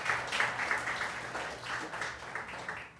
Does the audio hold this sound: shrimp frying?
no